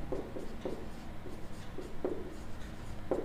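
Pen scratching on paper during a Class 9 maths lesson on polynomials, with short rhythmic strokes repeating close up against a faint room hum.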